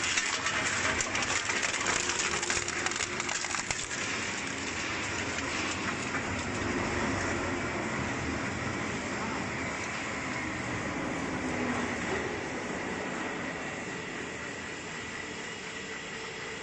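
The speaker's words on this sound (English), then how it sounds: "Now one UBC shredder does the work of a whole neighborhood" A UBC shredder tears through aluminum soda cans with a steady, loud metallic clatter and grinding rattle that keeps going for the whole stretch, with no voices over it.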